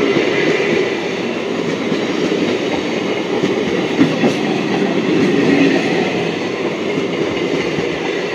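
A Bandel car-shed passenger rake runs slowly along the Howrah–Katwa line, heard from on board as a steady, loud rumble with rhythmic wheel clatter and no voices.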